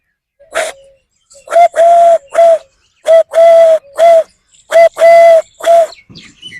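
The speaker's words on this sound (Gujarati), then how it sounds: "પક્ષીઓમાં વાત કરવામાં આવે તો હોલાનો અવાજ." Close, clear dove cooing, soft hollow hoots in short grouped phrases separated by brief silences.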